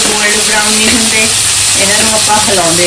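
Green chilies and chopped onions fry in a pan with a steady, loud sizzle throughout, while a voice speaks over the cooking.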